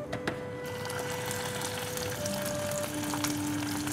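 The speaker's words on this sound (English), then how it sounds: "we are going to let it pan fry on a high heat" Fish frying skin-side down in olive oil on high heat, a steady close crackling sizzle with faint tonal hum underneath, no talking.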